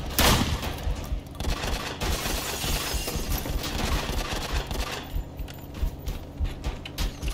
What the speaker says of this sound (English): I'm being shot from multiple sides by multiple people.